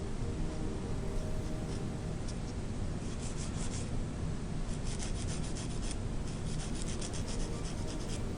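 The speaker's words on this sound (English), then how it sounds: "a lot of that skin came right off with the fingernail file" A fingernail file rasps steadily across a natural nail during a manicure, a close, continuous scratchy rubbing that holds even for the whole stretch.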